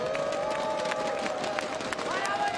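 A crowd at the V4 Festival CS:GO finals in a group-stage match between FaZe and GameAgents keeps up a steady murmur of cheering and scattered clapping, moderately distant, with a tonal hum running underneath.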